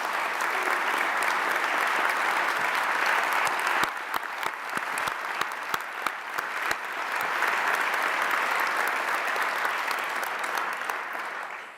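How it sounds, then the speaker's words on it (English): An audience at a university alumni achievement awards event applauds steadily for several seconds. Sharp, nearby individual claps stand out in the middle of the dense, even clapping. "I'd like you all to give her a round of applause"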